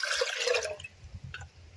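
Water poured into a vessel to soak tamarind, a short close splashing gush that tapers off into faint drips and trickles.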